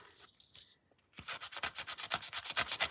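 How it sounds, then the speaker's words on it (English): Small bright scrapbooking embellishments with brads on the back are sanded by hand, a quick run of about a dozen rhythmic, close-up rubbing strokes after a brief quiet pause, alone with no talk. "It's easier sometimes to sand them with the little brad on the back because you can hold on to it."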